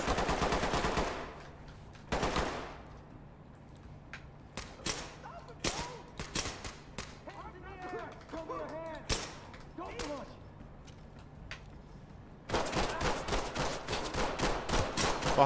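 Gunfire in the tactical shooter Ready or Not: sharp bursts and single shots crack at irregular intervals, with a heavy volley near the end, close and loud, while voices talk between shots.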